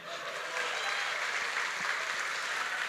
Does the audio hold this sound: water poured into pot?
no